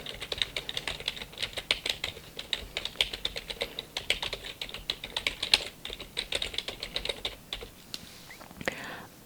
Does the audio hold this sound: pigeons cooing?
no